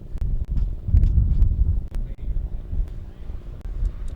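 Wind blowing across an outdoor rugby field during a 2016 college match between LSU and TCU, a steady low buffeting rumble with gusty swells, close and fairly loud, with a commentator talking over it.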